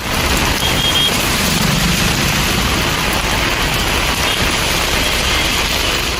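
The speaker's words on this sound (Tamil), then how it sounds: "மயிலாடுதுறை மாவட்டம் குத்தாலம் மற்றும் சுற்றுவட்டார பகுதிகளில் சுமார் பதினைந்து நிமிடங்கள் மழை கொட்டியது" Heavy rain pours over Kuthalam in Mayiladuthurai district, Tamil Nadu, as a dense, steady, loud hiss and roar that stays constant throughout. Nobody speaks.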